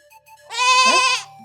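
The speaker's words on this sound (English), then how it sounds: "So this is where my goat wandered to." A single goat gives one loud, wavering bleat, close by, lasting under a second, with a quiet background before and after.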